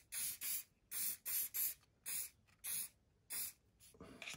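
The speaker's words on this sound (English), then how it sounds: "So I'm going to give that a bit of a spray" Hairspray hissing from an aerosol can onto white wadding in short bursts, about nine quick sprays in an irregular rhythm, close and crisp with brief silences between.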